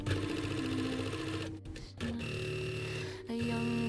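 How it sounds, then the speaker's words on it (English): A sewing machine stitching the straps of a little girl's wrap dress, running steadily with a loud close whir, briefly pausing twice before resuming. "I'm just going to sew them so then we close the opening."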